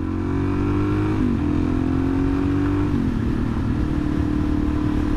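A DRZ motorcycle engine holds a steady, loud drone while riding, its pitch dipping briefly twice as the rider shifts, with no voices over it.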